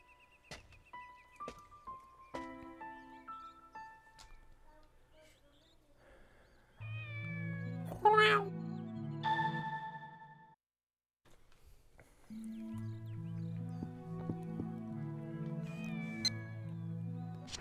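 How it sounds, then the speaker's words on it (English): A cat meows in the Shenmue video game, a few short mewing calls set over a looping melodic game soundtrack that drops out briefly before resuming. "Should we go touch that cat?"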